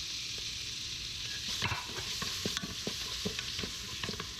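Chopped onions with ginger garlic paste sizzle and fry in a hot pan for a chicken lentil daal, a steady close hiss broken by clicks and scrapes of stirring, with no talking.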